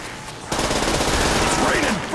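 Rapid automatic gunfire in Call of Duty Nazi Zombies on the Der Riese map, a loud continuous burst of shots kicking in after a brief lull, with a voice speaking over it.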